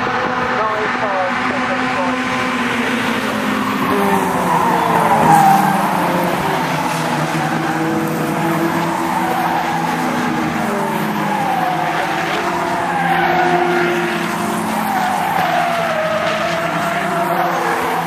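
Locost race cars racing at Silverstone, engines droning and rising in pitch as several cars pass in succession, with tire squeal and skidding, loud and continuous under a commentator's voice.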